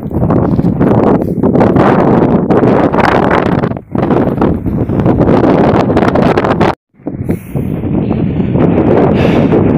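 Strong, cold wind gusting on a fog-covered mountain, loud roaring buffeting against the microphone that continues almost nonstop, cutting out briefly once before resuming.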